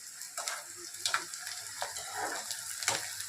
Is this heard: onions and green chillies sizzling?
yes